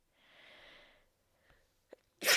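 A single close sneeze: a breathy inhale building for about a second, small catches, then a sharp burst at the end, alone in a quiet room.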